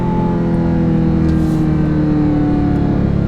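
A 2020 Dodge Charger Hellcat Widebody engine drones loudly and steadily up close, a thick, continuous tone with no pause throughout.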